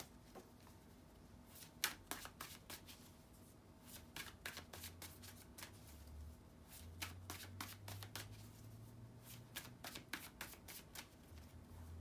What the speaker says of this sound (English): Just let me shuffle the cards.